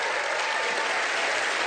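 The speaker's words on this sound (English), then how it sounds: "Give her a big round of applause," Loud, dense applause from a magic show audience fills the whole stretch evenly, with no talking over it.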